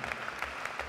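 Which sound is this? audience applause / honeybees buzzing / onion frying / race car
audience applause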